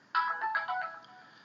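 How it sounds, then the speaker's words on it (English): A mobile phone ringtone going off nearby, a short bright electronic melody of several quick tones that fades out after about a second, alone without talk. "was just my phone going off."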